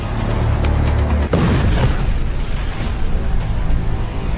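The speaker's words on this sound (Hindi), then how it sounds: "तेल के जहाज पर बमबारी," A deep booming explosion from the bombing of an oil tanker ship, a heavy rumble that surges with a sudden burst midway and keeps roaring loudly to the end.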